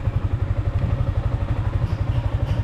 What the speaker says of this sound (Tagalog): Marunong na magpapandar si Bibi ng motor.